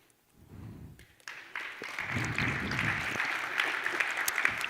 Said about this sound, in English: This is just forcing you to clap for my demos.